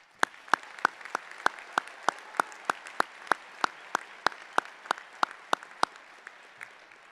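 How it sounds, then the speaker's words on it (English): About twenty sharp, evenly spaced claps ring out in a quiet hall at an engineering college convocation, sounding like a single pair of hands applauding veterans rather than a full crowd. "Please join me in applauding their service."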